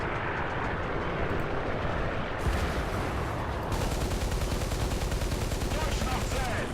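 Rapid .50 caliber machine gun fire in the tank game War Thunder rattles in a dense, continuous stream over the rumbling battle noise.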